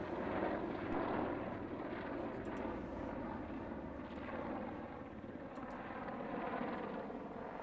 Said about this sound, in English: One Apache doing his display